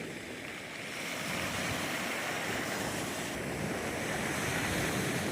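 Ocean waves breaking at the shore in Luna, La Union, a continuous loud roaring wash of surf with wind buffeting the microphone and no voices.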